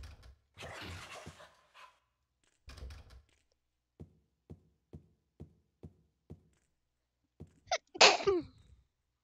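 A sudden, loud sneeze comes near the end, following scattered breathy noises and a regular run of soft knocks or taps.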